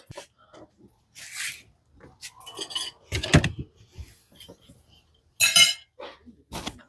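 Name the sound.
spoons and forks clinking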